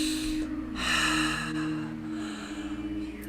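Deep, audible breaths drawn in and released during a meditation ritual, close and soft against a low steady background hum.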